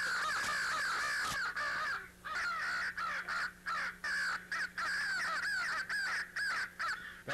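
Crows caw over and over during a crow hunt, giving loud, close, harsh calls in quick overlapping bursts above a low steady hum.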